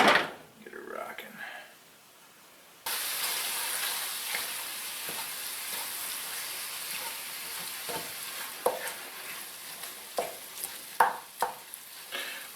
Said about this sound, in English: One of the reasons you want to give this a stir is to make sure that nothing's stuck on the bottom and is burning.